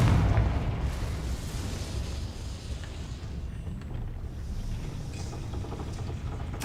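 A Confringo blasting spell explodes in Hogwarts Legacy, a booming burst at the start that fades into a low rumbling tail, with faint game ambience continuing afterward.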